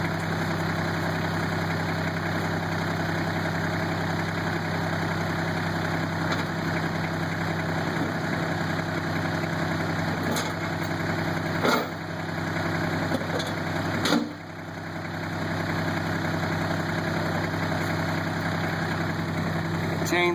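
A Kubota tractor engine idles steadily at close range, a constant low mechanical drone with a brief dip and a couple of faint clanks partway through, and no talking.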